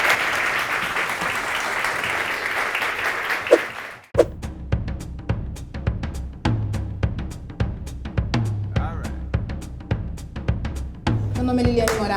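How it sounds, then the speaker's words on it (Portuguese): Audience at a talk event clapping together for about four seconds, then the applause cuts off and sparse clicks and knocks follow. "Então, uma salva de palmas,"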